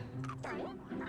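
The Polterpup, a ghost dog in Luigi's Mansion Dark Moon, gives a single brief whiny yip-like bark that rises and falls within about a second, close and fairly quiet.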